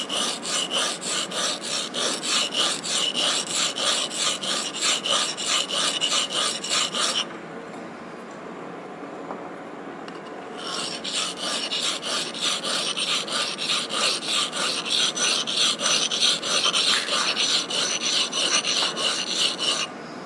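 A chisel is rubbed back and forth on a sharpening stone in a fast, even rasping rhythm, loud and close, with a short pause midway before the strokes resume.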